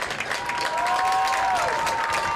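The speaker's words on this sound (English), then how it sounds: "a round of applause." A stadium crowd at a live sports event applauds for a team. The clapping is a continuous, moderately loud wash of many hands, with a faint sustained tone running through it.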